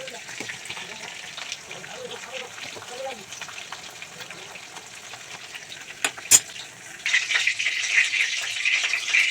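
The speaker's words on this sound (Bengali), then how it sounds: "তেলটা গরম হয়ে গেছে, পটল কিন্তু একটা একটা করে দিয়ে দেবো।" Pieces of pointed gourd fry in hot oil, a steady close sizzle that grows louder and brighter toward the end as more pieces go in.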